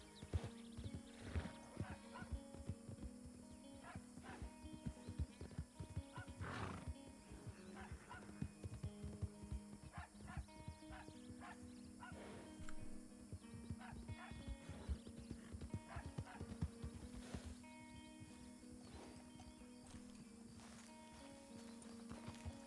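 Rhythmic hoofbeats of a horse galloping in Red Dead Redemption 2 roleplay, a steady clip-clop sustained throughout with occasional louder thuds, heard fairly close but low in level.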